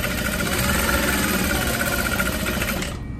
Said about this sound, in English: I'm just going to sew all the way across the bottom